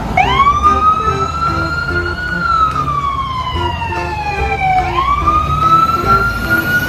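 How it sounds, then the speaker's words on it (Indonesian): A toy fire truck siren wails up and down in a slow electronic sweep, loud and continuous, with a faint mechanical hum underneath. "Wow, di sini ada mobil pemadam kebakaran."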